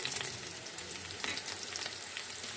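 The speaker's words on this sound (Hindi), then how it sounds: "अब इसको हम अच्छे से फ्राई करेंगे" Beef frying with garlic ginger paste and whole black pepper in a pot, a dense even hiss of sizzling fat with faint crackles throughout, close and steady with no talking.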